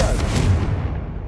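Confringo blasting spell in the Hogwarts Legacy video game lets off a short, heavy booming burst with a rumbling low tail that fades within about a second.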